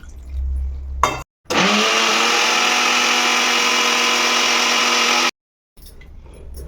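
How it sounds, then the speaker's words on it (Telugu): A mixer grinder whirs loudly and steadily for about four seconds blending a paste with water, then cuts out abruptly, with brief quieter motor bursts before and after. "ఇది మిక్సీ పట్టేస్తాను మెత్తగా"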